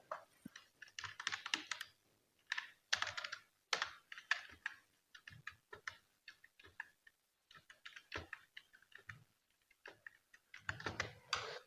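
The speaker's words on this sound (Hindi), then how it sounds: "ये हमने यहाँ पर कुछ टाइप कर दिया है" Typing on a computer keyboard while working in MS Word, a steady run of close, crisp key clicks in bursts with brief pauses, heard alone without any voice.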